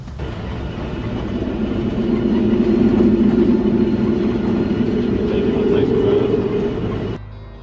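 A train rumbles along the tracks through the Australian countryside in a low, steady drone that swells and holds, then cuts off abruptly near the end.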